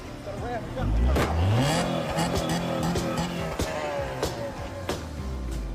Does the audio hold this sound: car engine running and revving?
yes